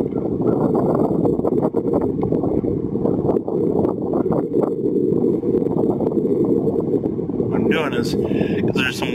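Steady wind buffets the microphone on Hall Lake during crappie fishing, a constant low roar running throughout, with some light higher noise near the end.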